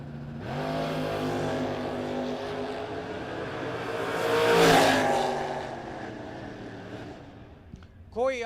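Drag race cars, a 1978 Malibu and a 1974 Vega, launch off the starting line at a no-box shootout, engines roaring loud and steady, swelling to a peak midway, with an announcer talking over them.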